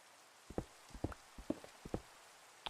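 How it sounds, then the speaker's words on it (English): Rain falling in a thunder shower in a dark, blocky video game world: a steady soft hiss with scattered sharp taps and thuds at irregular intervals. "This is a thunder shower."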